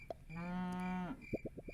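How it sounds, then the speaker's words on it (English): A cartoon cow from the Super Auto Pets video game lets out one long, clear moo, followed by a few short soft clicks from the game interface. "Get the cow."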